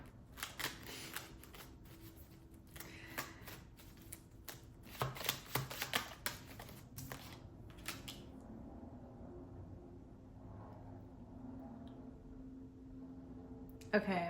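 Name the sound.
tarot cards being shuffled and pulled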